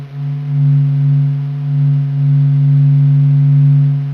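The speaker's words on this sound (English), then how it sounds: "Here is the sound of sun captured by NASA" Solar vibrations recorded by NASA, turned into sound: a steady, loud, low droning hum with a faint upper overtone that swells and pulses gently and never stops.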